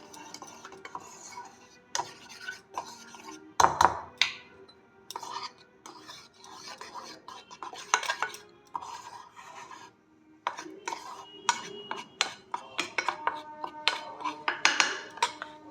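Spoon scraping and rubbing around a bowl while mixing batter with turmeric and a little sugar, an irregular run of close scrapes and clinks with brief pauses, no talking.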